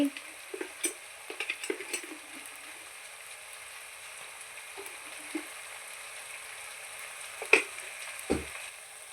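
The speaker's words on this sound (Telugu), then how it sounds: "ఉప్పు, కారం. ఇవి నూనెలో బాగా వేగాలండి." Salt and chili powder fry in hot oil for a chicken gravy curry, a soft steady sizzle with scattered stirring clinks and knocks, fairly quiet, no talk.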